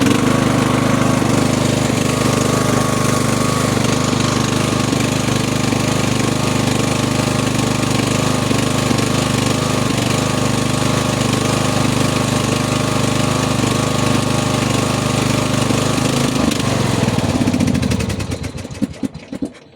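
A small engine with suspected carburetor trouble runs on choke, a loud, steady, rough drone close by that holds for most of the stretch before sputtering and cutting out near the end.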